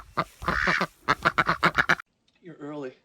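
Ducks quack loudly and close by, a drake among them, with a burst of rapid repeated quacks followed by a pause and then one longer, drawn-out nasal call.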